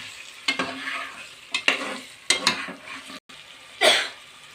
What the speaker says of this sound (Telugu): ముందుగా కడిగి పెట్టుకున్న చికెన్ వేసుకోవాలి. ఇప్పుడైతే బాగా ఒకసారి కలుపుకోవాలి.